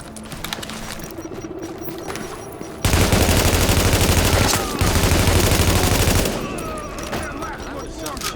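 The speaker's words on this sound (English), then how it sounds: "That was some shooting." Sustained automatic gunfire in the Tom Clancy's The Division shooter, a loud dense burst of rapid shots lasting several seconds, with quieter scattered shooting before and after.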